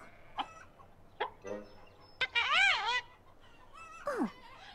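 Several short cartoon chicken clucks and squawks in quick succession from a My Little Pony: Equestria Girls animated short, close and fairly loud, with a brief higher-pitched call near the end.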